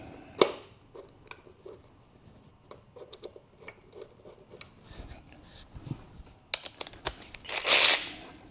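Cutters snip while an engine is being built, a few scattered sharp clicks and small handling ticks at close range, ending in a brief louder rasp.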